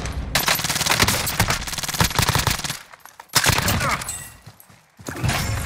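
Gunfire in a shooter video game, with loud rapid bursts of shots, brief pauses and further volleys close by.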